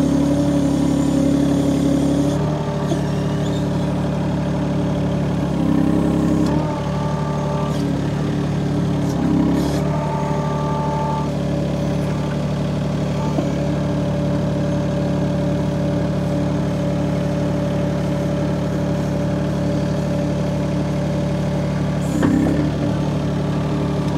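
A mini excavator engine runs steadily at a constant idle-like drone while pushing material back into a hole, with occasional brief clanks and knocks over the continuous, close, fairly loud hum.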